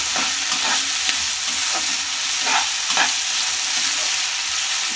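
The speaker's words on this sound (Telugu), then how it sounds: "ఇప్పుడు కొద్దిగా ఫ్రైని ఎక్కువ చేసుకోవాలి ఫ్రై కావడానికి" Food frying in a pan gives off a loud, continuous sizzle, broken by occasional soft stirring scrapes throughout.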